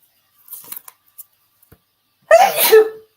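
A single sharp human sneeze bursts out near the mic after a few faint scattered clicks and rustles, loud and brief, in a quiet room.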